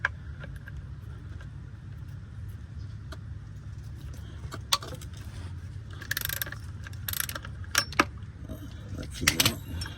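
Ratchet wrench clicking while loosening transmission mount bolts on an Audi S5 B8, with metallic ratcheting bursts and clinks over a low hum, growing busier toward the end.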